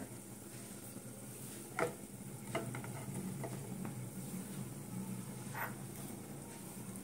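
Ghee spooned into hot refined oil in a pan, a continuous soft sizzling hiss with a few light clicks and scrapes of a utensil, steady and close with no talking.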